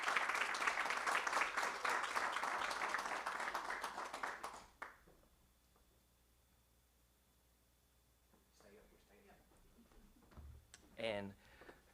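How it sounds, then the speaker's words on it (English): A small audience at a board meeting gives a round of applause that stays fairly close and steady for about four seconds. The clapping then dies away into quiet room noise, and a voice starts speaking near the end. "Let's give a big round of applause for Miss Sydney Price."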